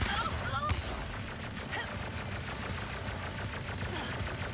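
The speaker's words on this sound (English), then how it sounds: "Automatic fire!" Rapid automatic gunfire in the Ratchet & Clank: Rift Apart video game, a dense, continuous stream of shots over a steady rumble, loud and unbroken throughout.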